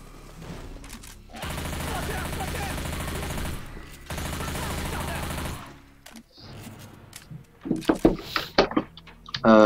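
MP5 submachine gun fire in the video game Left 4 Dead 2: two long sustained bursts of rapid automatic shots, loud and continuous, followed by scattered single shots and impacts, with players talking over the game audio.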